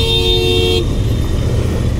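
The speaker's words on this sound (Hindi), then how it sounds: "काफ़ी थिक ट्रैफिक है इस वक्त" A car horn blares loudly and steadily close by for nearly a second, then cuts off. Dense road traffic and engine rumble continue underneath, heard from a motorcycle moving through heavy city traffic.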